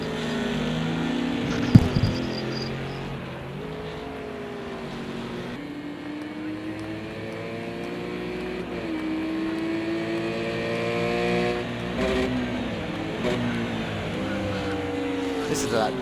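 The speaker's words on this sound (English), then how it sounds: "Listen to that Porsche when it's on the downshift, just valve bouncing." A Porsche race car in a racing video game, its engine revving and dropping through downshifts with a bouncing, strained tone, loud and continuous with a steady drone behind it.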